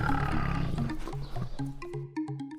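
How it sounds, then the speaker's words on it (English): A tiger roars in a short burst, loud and close, with a rough, growling low tone that breaks into a few shorter grunting pulses toward the end; no talking. "tiger."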